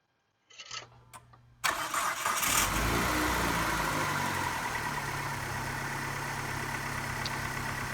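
A car engine cranks briefly after an oil and filter change in a home garage, catches with a loud burst, then settles into a steady idle that continues to the end.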